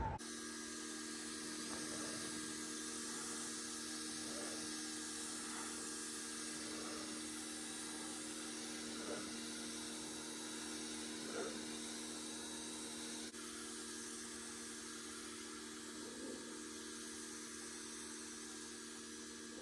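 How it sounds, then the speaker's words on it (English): A weak pressure washer on a long garden hose sprays water over a dirty Ford Bronco. It makes a steady, faint hiss with a low motor drone and a few soft thumps, and no voices are heard. "This pressure washer is not really putting out a ton of pressure, especially with this long water hose I've got going on here"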